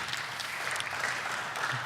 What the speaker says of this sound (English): Round of applause for Paulie, right?